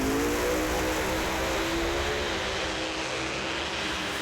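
NHRA Pro Modified drag race cars, nitrous-injected, roar past at Concord as a loud, sustained engine drone with whining tones, heard from a distance without voices.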